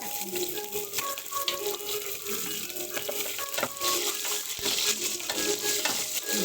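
Onions fry in a pan with a dense, steady hiss and sizzle, broken by occasional stirring scrapes and faint tonal clinks.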